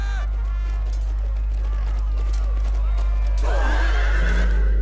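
Cavalry horses neigh and whinny in an Empire: Total War battle set at Turin in 1762, with a loud, strained whinny rising near the end over a heavy, constant low rumble of battlefield noise.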